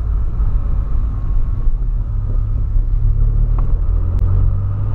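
A Volkswagen Polo's engine rumbles through a sport exhaust, heard from inside the car with a window opened a little. The deep, loud rumble stays steady throughout with no talking.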